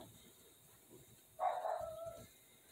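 A single faint, drawn-out bark or whine from a dog off in the distance, lasting under a second against a quiet background.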